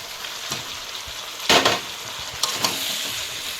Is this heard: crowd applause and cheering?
no